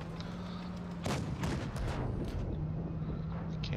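Tank cannon fire in World of Tanks Blitz, a single loud boom partway through followed by a couple of shorter sharp reports, set against a low steady engine hum.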